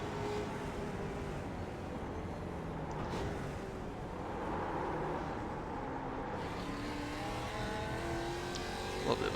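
Mazda MX-5 production race cars in an iRacing sim race drone together in a steady, moderate engine hum, with shifting revs from a pack of cars running nose to tail.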